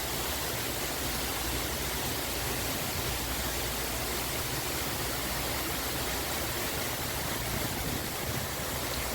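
Aloco Falls in Ilocos pours in a steady, dense roar of rushing water, loud and unbroken for the whole stretch, with no voices over it.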